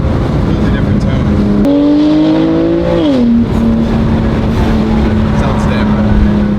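A BMW F87 M2 Competition with its S55 engine and a Valvetronic Designs exhaust, steady droning tone that climbs briefly in pitch during a rev before settling back, loud and close under continuous road rumble.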